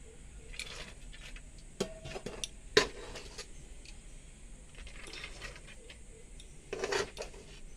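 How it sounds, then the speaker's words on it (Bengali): Cooked rice added to a pot with ghee for biryani, giving faint scattered clinks and taps of a spoon against the metal pot, several brief sharp knocks against quiet kitchen background. "এখন আমি রাইসটা দেবো।"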